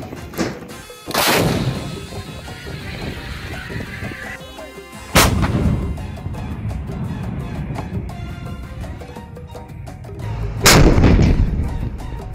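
Artillery firing from army positions near a border, with three heavy booming shots spaced several seconds apart, each followed by a long rolling rumble over steady background noise.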